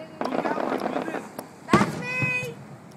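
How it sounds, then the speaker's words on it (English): Fireworks crackle and pop in a rapid burst, followed by a sharper bang and a rising whistling tone, with people talking excitedly over them. "Look at the firework right there."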